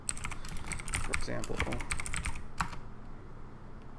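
Rapid keyboard typing while commands are entered into a shell on a computer, the clicks dense and close, with a person speaking over parts of it.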